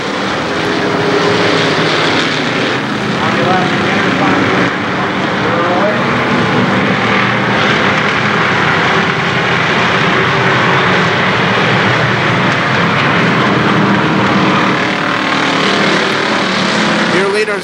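Oval-track race cars at a speedway Labor Day championship roar under the green flag, a loud continuous engine drone filling the whole stretch while a race announcer talks over it.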